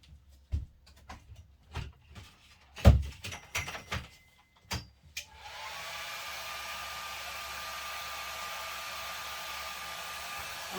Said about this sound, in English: I'm just going to pop over to the other side of the room and hit it with my blow dryer.